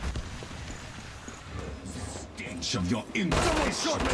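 Gunfire in the Killing Floor 2 video game: rapid close shots and clattering impacts over game noise, rising to a loud dense burst near the end, with no talk.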